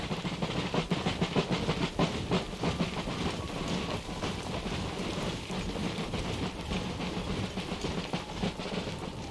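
A train passes outside a home, a continuous loud rumble with rhythmic clickety-clack of wheels on rails and a faint hiss, sustained throughout without speech.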